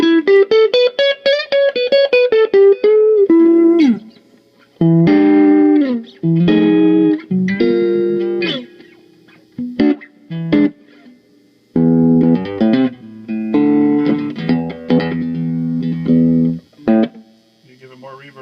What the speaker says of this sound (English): I like that it's a real spring reverb.